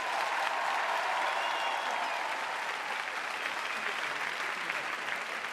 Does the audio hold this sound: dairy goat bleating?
no